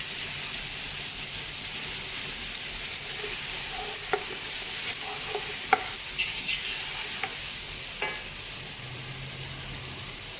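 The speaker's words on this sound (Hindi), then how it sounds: "अब ये गोश्त और प्याज मिल गए तो हम इसे मिला देते हैं लहसुन, अदरक और हरी मिर्ची" Mutton, onion, garlic, ginger and green chili fry in a pot for a spicy stew, a steady close sizzle broken by occasional scraping clinks of a spoon as the mix is stirred.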